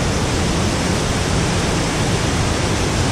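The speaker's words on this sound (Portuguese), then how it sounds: "Mais uma cachoeira visitada com sucesso." A steady, dense rush of a waterfall in Baependi, Minas Gerais, roars without pause, loud and close, with no voices.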